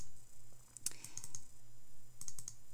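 A computer mouse clicked while copying a character from a character map, a handful of sharp, light clicks in two short clusters, close and quiet, with no voices.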